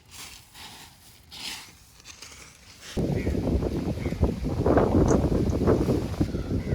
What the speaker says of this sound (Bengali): বসন্তকালের মাঠের হাওয়া দেখুন কত জোরে হাওয়া দিচ্ছে